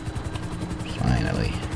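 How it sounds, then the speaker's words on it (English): Helicopter rotor thrum from GTA V Online, a rhythmic pulsing chop at close range, with players talking over it. "I bumped into the red chopper."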